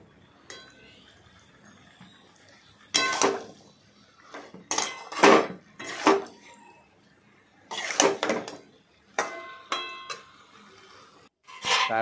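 Mourala fish being stirred in a metal pan, intermittent bursts of spoon scraping and clanking against the pan separated by quiet pauses.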